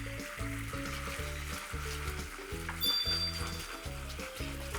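Honey and butter sauce for hamburger steak bubbling in a pan, a steady close sizzle and simmer running under rhythmic background music, with no talking.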